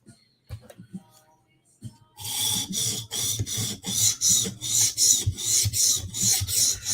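A blade is being sharpened to flip its burr, with steady rhythmic rasping strokes on a stone that start after a quiet pause with a few light taps, about ten repeated close passes.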